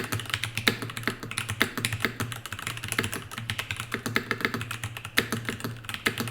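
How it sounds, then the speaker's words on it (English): Rapid typing on a computer keyboard, with dense, uneven bursts of close, crisp key clicks running continuously and a low steady hum underneath. "Trying to read what he's typing."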